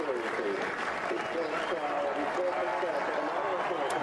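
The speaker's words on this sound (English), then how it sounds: "Crowd here absolutely delirious." A racecourse crowd at York cheers and applauds, a dense continuous roar of voices and clapping sustained at steady loudness, with a commentator talking over it.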